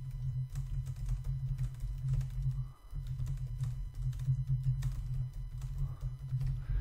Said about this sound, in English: Give me a moment and I'm going to type it in.